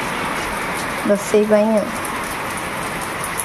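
Heavy rain pours steadily in a village as an even, loud hiss, with someone speaking briefly over it.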